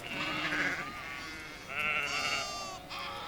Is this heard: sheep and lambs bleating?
yes